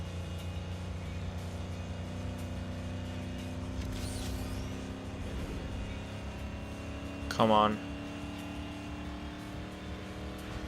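Lincoln Navigator engine in the Need For Speed Underground 2 video game, a steady sustained drone of high revs, loud and continuous, with a brief spoken exclamation early on and a sharp burst midway.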